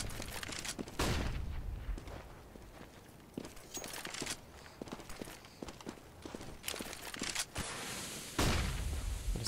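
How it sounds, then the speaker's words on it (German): Gunfire in a Counter-Strike match on de_dust2, with shots through a smoke: sharp, scattered cracks and short bursts over busy in-game noise and movement, fairly loud. "Kommen einige Schüsse durch die Smoke."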